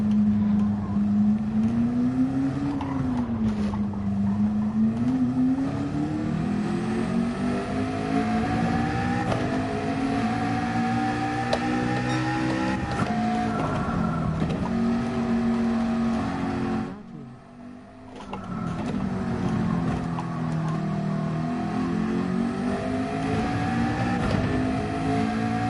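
McLaren race car engine in Gran Turismo 7 droning steadily and loudly, its pitch rising and falling through gear changes, with a brief dip partway before the engine note returns.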